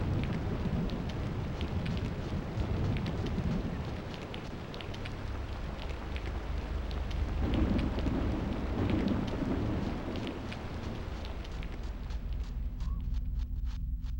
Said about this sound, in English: I also really like the rain sound.